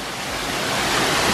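A waterfall in Fiordland National Park, New Zealand, heard up close as a steady, dense roar of rushing water that fills the whole moment without a break and with no voices.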